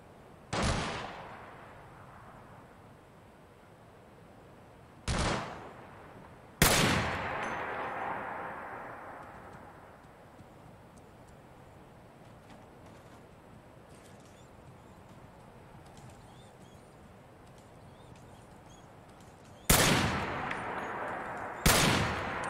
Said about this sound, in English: that's probably the shooting